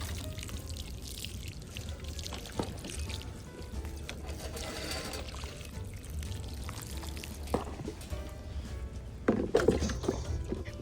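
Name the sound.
water poured onto transplanted sweet potato slips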